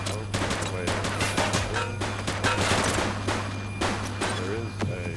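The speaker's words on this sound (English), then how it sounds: "She's shooting!" Rapid bursts of gunfire ring out during a police shootout in the video game The Precinct, with overlapping shots over a steady hum while voices shout in between.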